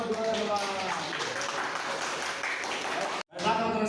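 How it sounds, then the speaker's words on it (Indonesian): A class claps for a student group after its presentation, a dense steady clapping that runs throughout, breaks off abruptly for a moment and then resumes. "Beri tepuk tangan dulu untuk kelompok 2 teman-teman."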